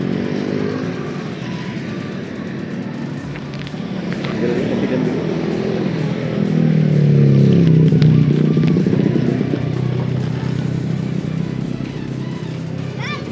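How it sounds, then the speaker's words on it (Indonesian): Bajaj Pulsar NS200 motorcycle engine on a group touring ride, a loud continuous drone that swells mid-way amid other traffic, with a voice speaking briefly over it. "Ini motor Pulsar kita guys"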